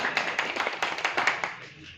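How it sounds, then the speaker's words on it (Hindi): An audience claps together in quick, steady applause welcoming a guest onto a stage, fairly soft and at some distance, tapering off at the end. "एक बार जोरदार ताली से स्वागत आप लोग करेंगे सर"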